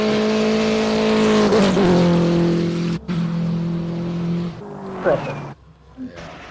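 Race cars at the Simola hill climb, a loud engine roar rising and falling through gear changes with tire noise, cutting off suddenly before quieter engine sounds; commentators talk over it.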